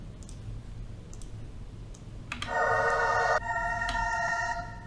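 A dark choir sample processed with a reel-to-reel tape effect plays a short sustained chord after a few faint clicks, then continues at lower level over a hissy background.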